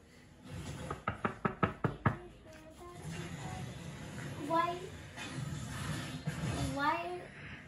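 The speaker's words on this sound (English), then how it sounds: "we hear knocking twice" At night, about seven sharp knocks come in a quick rhythm on a door or wall, loud and close, followed by hushed conversation between an adult and a child.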